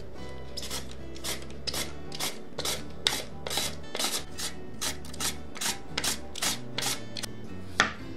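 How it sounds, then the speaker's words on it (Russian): Steady rhythmic rasping strokes, about a dozen evenly spaced scrapes of a carrot against a Korean grater, close up, with no talking. "Морковь натереть на корейской терке."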